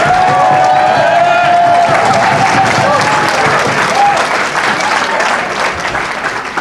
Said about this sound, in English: I need you to stand off your feet. I need you to clap it up.